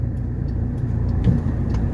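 A 1982 Mercedes 300D on a test drive, its engine droning steadily and loudly from inside the cabin with a low rumble and road noise throughout.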